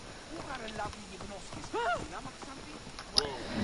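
Horse hooves clip-clopping toward the player in Assassin's Creed Origins on PlayStation 4, a run of hoofbeats with a snort or whinny, heard under a voice talking.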